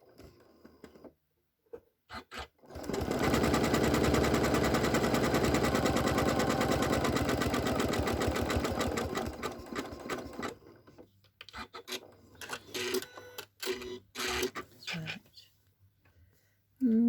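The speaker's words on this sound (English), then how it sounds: "I'm going to bring the needle up, go back to the zigzag, just going to make it smaller." A domestic sewing machine stitching zigzag on a small scrap-fabric card, a loud, fast, continuous buzzing run of stitches for several seconds, with quieter bursts and handling noises around it.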